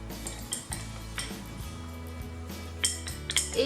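A spoon clinks and scrapes against a glass while stirring powder into fruit juice, a few sharp chimes standing out over a low background hum.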